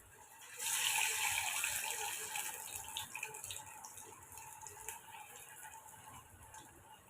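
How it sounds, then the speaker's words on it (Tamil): Fish hits hot oil in a kadai with a sudden rush of sizzling hiss that peaks at once and then settles into a softer, steady crackle, fairly quiet overall. "இப்போ எண்ணெயுமே நல்லா சூடாயிருச்சு மீன் கொடுத்து எடுத்துக்கலாம்"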